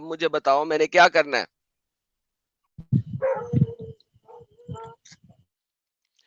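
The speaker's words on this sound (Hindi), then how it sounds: "आपके पीछे से कुत्तों की आवाज आ रही है" On a live call, a burst of dogs barking comes through compressed in the background, followed by a pause and then someone talking.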